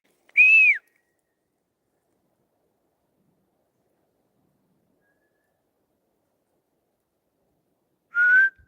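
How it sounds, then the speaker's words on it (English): Two short, clear whistles, one rising and falling, separated by a long stretch of near silence outdoors. "Did you hear that whistle?"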